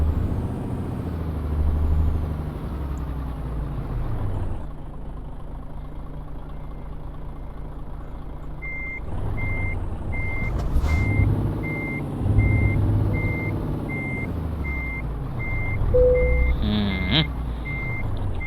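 A truck in Euro Truck Simulator 2 backs into a parking spot, its engine rumbling low while evenly spaced reversing beeps repeat for several seconds, followed by a short air-brake hiss near the end.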